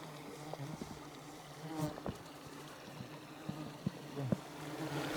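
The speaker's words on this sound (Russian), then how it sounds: "вот так вот выглядит овод местный" A local gadfly, a horsefly in the Oymyakon area, buzzes close by in shifting, wavering bursts as it circles, over a faint outdoor background.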